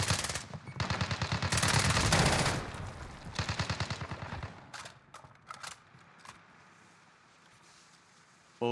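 Loud, close machine-gun fire in Call of Duty: Warzone (Cold War era, Krig 6 rifle), several sustained automatic bursts, then scattered single shots and mechanical clicks fading to quiet.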